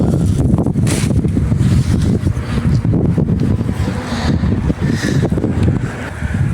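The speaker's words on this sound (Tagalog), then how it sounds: "Mas mahangin pa." Strong, gusty wind buffets the microphone in a steady low roar, with a few brief rustles and faint background sounds.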